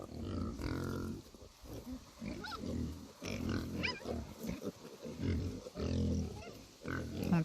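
Pigs on a farm grunt and snort in repeated low bursts throughout, fairly close, with some talk mixed in on a warm day.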